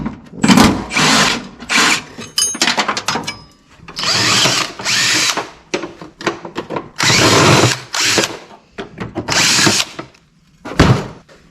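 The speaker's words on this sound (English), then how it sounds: "We got to drill these holes" Power drill boring holes for an LS swap intake tube, several loud close bursts of whirring that start and stop in quick succession, with short pauses and a faint thunk between them.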